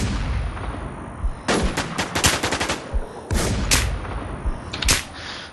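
Rapid bursts of automatic gunfire in The New Z, a zombie survival shooter, crackling in dense volleys with short pauses between strings of shots, loud and close with no talk over it.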